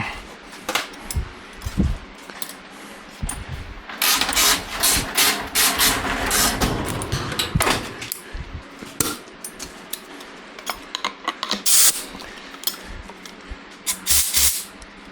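Compressed air tool on a scooter being recommissioned, heard as uneven bursts of hissing, whirring air that start and stop several times, loud and close.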